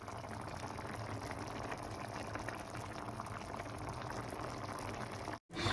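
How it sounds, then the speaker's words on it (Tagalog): Tomato sauce with beef meatballs simmering in a pot, a faint, steady bubbling and popping close by, continuous and quiet, cut by a brief gap near the end. "At ayan guys, kumukulo-kulo na."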